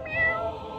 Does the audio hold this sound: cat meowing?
yes